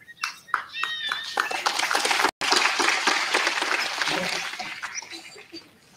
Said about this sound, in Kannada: ಎಷ್ಟು ಆನಂದವಾಗಿ ಚಪ್ಪಾಳೆ ಹಾಕ್ತೀರಿ ನೀವು